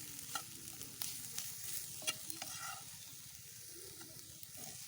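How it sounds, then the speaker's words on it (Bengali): Bottle gourd peels boiling in a pot are stirred with a utensil, giving a steady close bubbling hiss broken by several sharp scraping knocks of the spoon against the pot. "আমি একটু নাড়িয়ে নিচ্ছি, একটু সিদ্ধ হলেই ছিল পাটায় বেটে নিব।"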